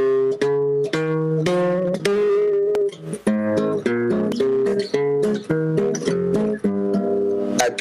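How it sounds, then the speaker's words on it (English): A sequence of melodic notes moving through a major scale, each sustained note sounding clear and close with rich overtones, played alone with no talking. "So when you play the 7 notes of what you call a major scale, they sound like this."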